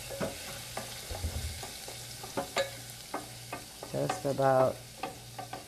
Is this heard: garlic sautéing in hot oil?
yes